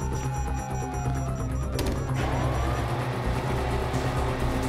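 Police sirens wail in Grand Theft Auto V, rising and falling over a constant engine and street rumble, with a sharp crash or burst of noise near the middle before the sirens carry on.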